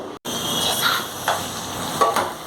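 Onions frying in a pan at home, a steady sizzle with a few light scrapes of stirring, close and alone.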